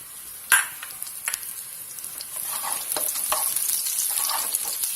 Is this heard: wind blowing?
no